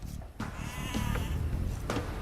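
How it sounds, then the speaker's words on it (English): Sheep bleat in Age of Empires II: Definitive Edition, with a few short, wavering electronic baas in quick succession over quiet game ambience. "villagers can herd sheep or hunt deer for food"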